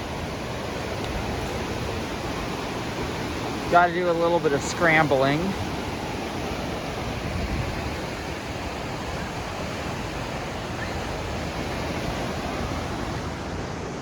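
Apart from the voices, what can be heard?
ocean waves on the beach below a slag dump, Monterey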